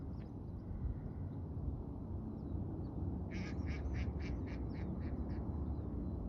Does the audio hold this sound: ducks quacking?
yes